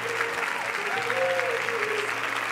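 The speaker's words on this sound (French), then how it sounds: "Et les applaudissements du public" Audience applause at the Cannes Film Festival's Théâtre Lumière as the Boy from Heaven team arrives, a dense, steady wash of many hands clapping without a break, with faint crowd murmur and some voices underneath.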